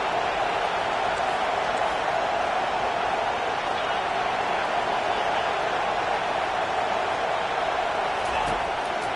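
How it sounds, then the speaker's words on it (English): A football stadium crowd roars steadily for the defense on third down, a dense, sustained wall of cheering with no breaks. "Decibels rising as the crowd gets behind this defense on 3rd down."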